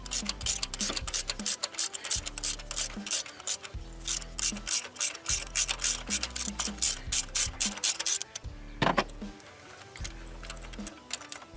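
A socket ratchet turns a spark plug on a Nissan Kicks with rapid, close metallic clicking in repeated bursts, each stroke pausing briefly before the next, steady and loud throughout.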